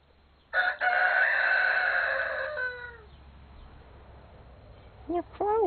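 A loud, close rooster crow rings out for a couple of seconds, trailing off, followed by a few short clucks near the end.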